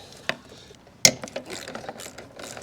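A ratchet works a bolt loose on a Honda push mower: a few sharp clicks and a louder metallic snap followed by a quick run of ratcheting clicks, close and otherwise quiet.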